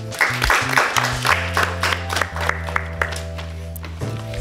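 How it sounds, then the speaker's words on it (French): Applause from a small audience at a family show, with clapping sitting over steady low background music and fading toward the end. "On va applaudir Alia."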